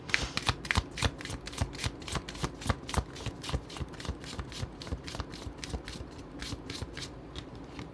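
Tarot cards riffled and shuffled by hand, a fast, even run of crisp papery slaps lasting several seconds, close and clear with no talking.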